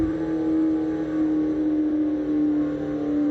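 A car engine in the racing game Assetto Corsa holds a steady, loud, droning whine at high revs, humming continuously without a break.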